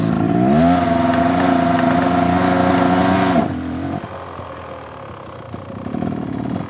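Motorcycle engine held at high revs with a steady whining tone, then dropping sharply away when the clutch is released, settling into a lower, quieter running sound.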